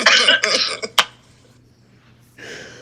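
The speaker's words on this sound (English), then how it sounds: "I ain't mean to get you to start coughing over there." A few sharp coughs in quick succession, loud and close, then a pause of near quiet before a softer breathy noise.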